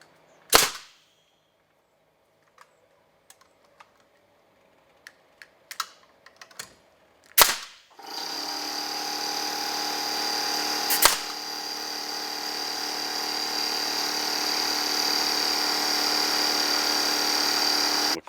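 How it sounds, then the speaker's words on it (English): Staple gun driving staples through replacement wood on the base of an Artesian hot tub: a few sharp, loud, isolated snaps spaced several seconds apart, followed by a steady hissing hum that continues underneath. "So I'm going to go ahead and staple these two in."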